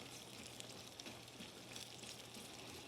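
Shallots frying in oil for a shallot oil: a steady, faint, even sizzle and crackle with no pauses and no talk.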